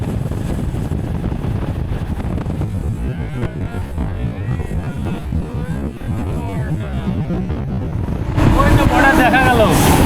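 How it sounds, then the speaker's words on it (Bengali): A passenger train runs fast between CoochBehar and Siliguri through green tea-garden country, a steady low rumble with buffeting wind that surges louder near the end. "আমাদের ট্রেন বেশ ভালো গতিতেই ছুটে চলেছে"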